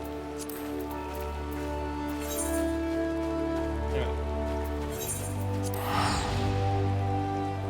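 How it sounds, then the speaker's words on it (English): Steady pattering rain in Final Fantasy XIV fills the background alongside a sustained musical drone, with occasional faint voices. "It's like rain."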